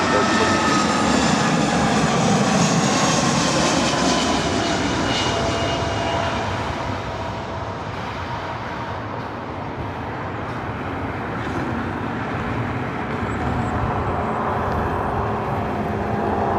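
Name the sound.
airliner landing on runway 24 right at LAX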